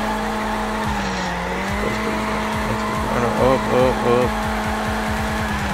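A car sliding on an oily road after the handbrake is pulled, with a steady engine drone, rising tire squeal and skidding, and brief speech over it.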